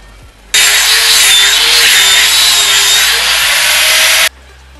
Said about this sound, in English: I just use, I think it's 24 grit on the grinder